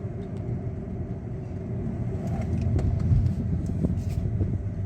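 A Hyundai automatic car slowing as its transmission drops into third gear, heard from inside as a steady, close engine and road rumble that swells slightly partway through.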